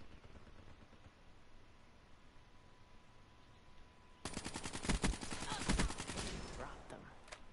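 Rapid automatic gunfire in Call of Duty: Black Ops 3 breaks in halfway through, a dense rattling burst that carries on loudly after a quieter stretch of low background hiss.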